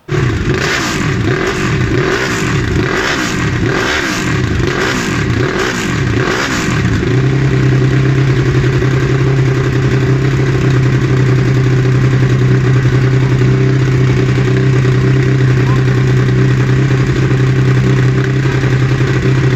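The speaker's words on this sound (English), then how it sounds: "you guys need to take a listen to how this thing sounded" A Ducati Superquadro L-twin motorcycle engine revs repeatedly in sharp rising bursts, then settles into a steady loud drone, close and continuous with no talking.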